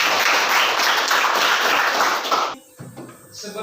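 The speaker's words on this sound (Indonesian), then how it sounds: "Tepuk tangan buat kita semua." A class of students claps together in a brisk burst of applause that cuts off abruptly after a couple of seconds, leaving scattered faint room sounds.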